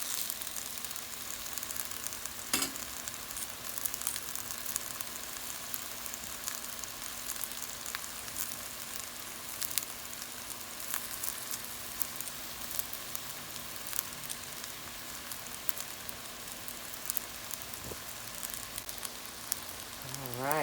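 Cabbage and shrimp fried rice frying in a pan, a steady soft sizzle and crackle running throughout with a few brief clinks, close and moderately quiet with no talk.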